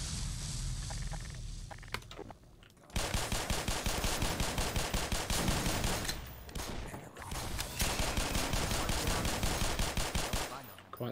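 Sustained automatic gunfire in the Black Mesa game, rapid bursts rattling loudly and densely for most of the stretch with brief pauses, a short quieter lull near the start.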